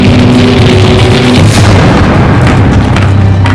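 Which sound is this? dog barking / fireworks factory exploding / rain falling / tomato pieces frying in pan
fireworks factory exploding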